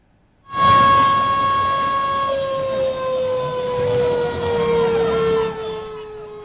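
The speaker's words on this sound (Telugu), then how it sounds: "మెట్రో నగరాల్లో 8 సైరన్లు ఏర్పాటు చేశారు" A civil defense siren sounds during a nationwide mock drill in a metro city. It is a loud, sustained wailing tone that starts abruptly and slowly drifts in pitch, heard alone without talk.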